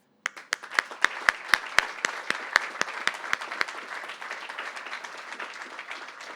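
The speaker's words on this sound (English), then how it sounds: "I want to extend a big round of applause for your continued work and dedication to this project" Applause breaks out at a press briefing on a light rail federal grant. It starts with a few sharp, loud individual claps, then thickens into a modest crowd clapping that gradually fades.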